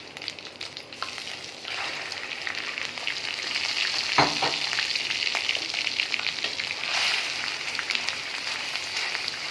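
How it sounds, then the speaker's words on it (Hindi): Chicken mince fries in a pan with ginger and garlic, a continuous sizzle that swells midway as it is stirred, with one sharp utensil knock near the middle and no voices. "और इसको अच्छे से मैं मिक्स करूंगी और इसमें भूनूंगी, ताकि जो अदरक लहसुन का टेस्ट है वो कीमे के अंदर आ जाए।"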